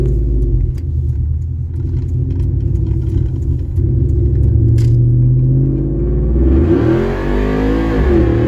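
A Coyote V8-swapped Ford SuperCrew pickup on drag wheels accelerates hard, its engine roaring loud and close with a rising pitch, then shifting and climbing again toward the end.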